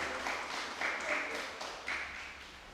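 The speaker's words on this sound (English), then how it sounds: "let's give a round of applause again" Audience applause for a young pianist at a police youth club awards ceremony, a moderate, fairly distant patter of clapping that swells and fades in soft waves for a few seconds.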